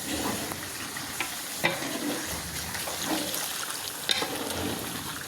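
Large pieces of meat cook in a hotel kitchen pot in Khulna, giving a moderate sizzle and bubbling with occasional scraping stirs and sharp clanks of a utensil.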